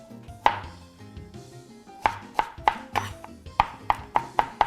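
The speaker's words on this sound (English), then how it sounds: "going to slice it into very thin slices because I really want to get this small." A knife slicing an onion into very thin pieces for pico de gallo salsa, about a dozen crisp, close board taps, a single cut first and then a steady rapid run of even strokes, with soft music beneath.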